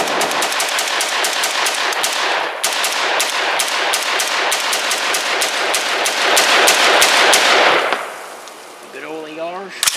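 Colt AR-15A4 rifle firing a full magazine in rapid, evenly spaced loud cracks for about eight seconds, a short break near the start, then the shots stop and a voice begins talking.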